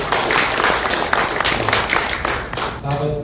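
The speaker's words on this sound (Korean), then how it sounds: "복고일 작가님에게 감사의 박수 부탁드립니다." A book launch audience applauds author Bok Geo-il with dense, steady clapping that fills the room throughout, and a voice comes in faintly near the end.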